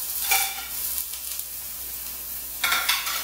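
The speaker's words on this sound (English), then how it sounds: "you're gonna start with that hot cast iron skillet or any kind of skillet to sear that." Meat searing in a hot cast iron skillet on a stove, a steady soft sizzle with brief louder hissing bursts near the start and end, no voices.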